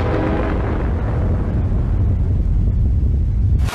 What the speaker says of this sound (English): the final and largest explosion called Kanakin